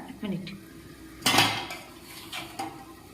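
A lid set onto a cooking pot of a homemade spinach dish left to come to a boil: a sharp metallic clang near the middle, framed by softer clinks and knocks of cookware, close and fairly loud.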